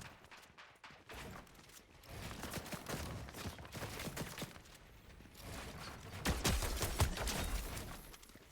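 Scattered gunshots from a Fortnite esports playoff match, a mix of single cracks and short bursts that grow louder and denser toward the end, with footsteps and game sounds in between.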